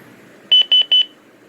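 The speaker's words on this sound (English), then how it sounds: "And there's a beep." An Anytone AT878UV handheld radio gives three short, clear electronic beeps in quick, even succession against a quiet background.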